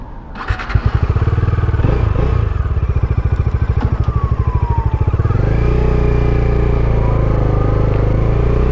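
A Bajaj Dominar motorcycle engine throbs close by in a fast, pulsing rhythm, then settles into a steady drone as it rides on through Istanbul evening traffic, faint around it.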